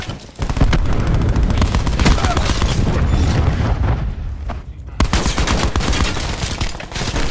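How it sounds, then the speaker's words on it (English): Cluster grenade explosions in Black Ops 4 combat, a loud dense rumble of repeated blasts and gunfire, continuous and close, a brief lull then another sharp burst. "Cluster grenade going out"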